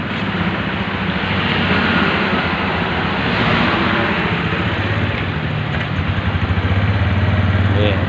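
A 2010 Suzuki Spin motorcycle engine idles steadily nearby, a continuous low putter with a faint buzzy hiss, even and unbroken for several seconds.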